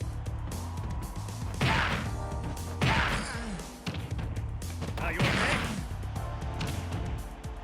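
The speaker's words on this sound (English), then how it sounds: "Terry's Buster Wolf can grab someone who's laying on the ground" Terry's Buster Wolf special move in Super Smash Bros. landing on a grounded opponent: loud bursts of smashing, thudding impacts and whooshes over game music and effects, with a voice talking throughout.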